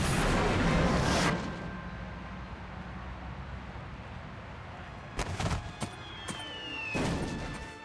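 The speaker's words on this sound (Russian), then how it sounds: "Эпичный взрыв" A loud factory explosion in the video game Sam & Max Save the World bursts for about a second, then settles into a low rumble. A few scattered crashes and clanks of debris follow.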